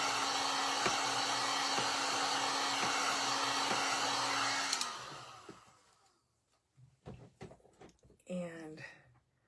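A hair dryer runs loud and steady, blowing on fresh paint on a craft piece, then switches off and winds down, followed by soft handling clicks and brief rustles.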